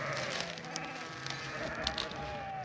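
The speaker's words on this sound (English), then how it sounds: "these sheep just keep getting tighter and tighter and tighter of a bunch" Sheep bleating within a tightly bunched flock on a farm, scattered calls near and far over soft ambient noise and buzzing flies, no talk.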